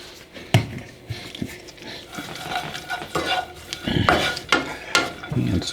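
Raisins and pine nuts cooking in a pan while being stirred, soft scraping and clinks of a utensil against the pan at irregular intervals, fairly quiet.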